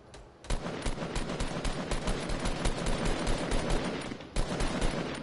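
Sustained automatic gunfire in the video game Fortnite, a loud rapid stream of shots that runs almost without pause, with a brief break near the end before firing resumes.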